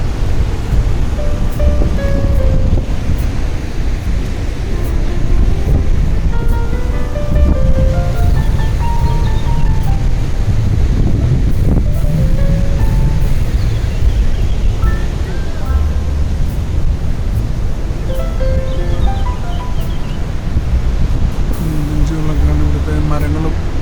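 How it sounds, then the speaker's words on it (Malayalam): Wind blowing at the Rhine Falls in Switzerland, a steady roaring rush of air and water spray that runs loud throughout, under talk and bits of music. "കാറ്റടിക്കുന്നുണ്ട്."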